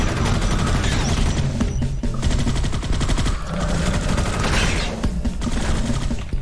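Automated turret in the sci-fi shooter Space Beast Terror Fright firing nonstop, a loud, dense stream of rapid gunshots holding steady for several seconds with no talking.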